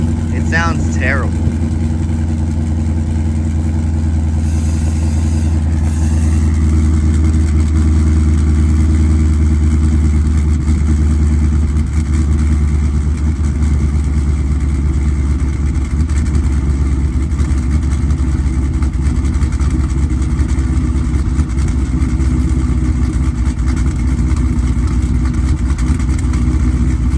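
A cold cammed Jeep SRT8 V8 idles at about 900 rpm with a loud, choppy, lumpy rumble that runs steadily throughout, while a person talks over it.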